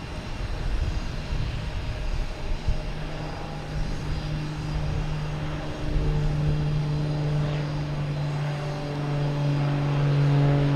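A Lufthansa airliner with its landing gear down comes in to land at Boston Logan, a steady engine drone with a rising whine that grows slowly louder over the distant airport rumble, no voices.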